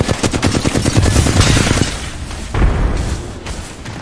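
Frag grenade explosion and rapid gunfire in the Apex Legends battle royale, a dense burst of automatic shots followed by a booming blast and further loud pops, close and intense.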